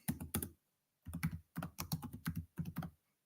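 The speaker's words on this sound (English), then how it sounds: "And if you type in Joe Biden," Typing on a computer keyboard, close and moderately quiet, in four quick bursts of rapid clicking keystrokes separated by short pauses.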